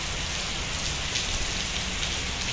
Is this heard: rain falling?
yes